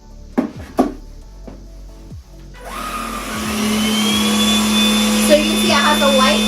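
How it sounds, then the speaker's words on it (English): A cordless stick vacuum starts after a few knocks and then drones steadily and loudly while cleaning dirt off a hardwood floor, its whine rising slightly over several seconds. "let's go ahead and see how wonderful it works on hardwood."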